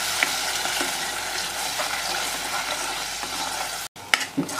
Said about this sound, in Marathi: तेल आता गरम पण झालं आहे, त्यामध्ये आपण आता कांद्याची पेस्ट घालूया